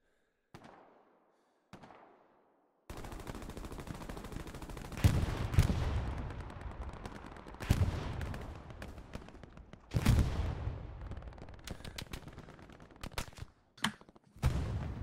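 Machine gun fire in the WWII shooter Hell Let Loose, sharp distant shots first, then heavy bursts of automatic gunfire and echoing cracks that come in loud clusters and trail off into scattered single reports.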